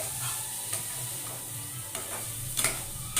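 Potatoes and paneer frying in a pan, a steady close sizzle running throughout with occasional scraping stirs and light clicks of a utensil against the pan.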